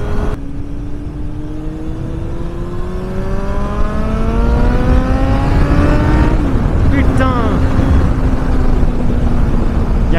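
A motorcycle engine climbs steadily in pitch as the rider accelerates on a road near Château-Thierry, a loud close drone that shifts briefly around six seconds and then settles into a steady tone.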